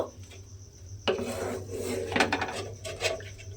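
A spoon scrapes and rubs around a pot as spice paste is mixed with water for a rohu fish curry, soft scraping at first, then louder clinking strokes in an uneven rhythm, close by, with no talking.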